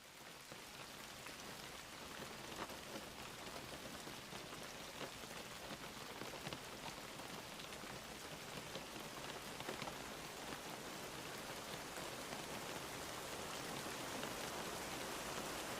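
Steady rain falls outdoors, a dense continuous hiss of drops pattering on surfaces that holds at an even level throughout with no voices.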